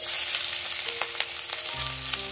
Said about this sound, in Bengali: এবার এখানে আমি যে পেঁয়াজ লঙ্কা কুচি আদা কুচি আর রসুন কুচি করে রেখেছি, এবার এটা কড়ার তেলের মধ্যে দিয়ে দেবো